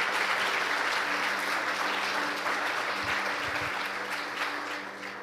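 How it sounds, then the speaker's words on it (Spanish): Sustained applause from a morning church congregation, a dense, even roar of clapping that carries on for several seconds and eases slightly toward the end. "fuerte aplauso a Jesús en esta mañana."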